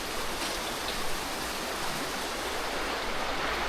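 Water of the River Rivelin rushing steadily at the Holme Head Wheel site in late autumn, a dense, even broadband roar with no pauses or voices, close and constant.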